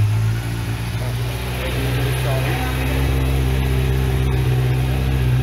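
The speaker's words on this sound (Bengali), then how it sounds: "এটার ইঞ্জিন সাউন্ডটা খুবই স্মুথ" Kawasaki Z1000 1000cc sport motorbike engine running steadily at idle, a loud continuous low drone with a slight rise in revs midway.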